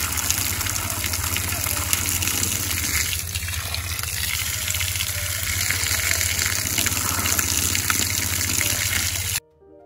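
Water gushes steadily onto a portable EV charger during a waterproof test, a continuous close hiss of spray that stops abruptly at the end.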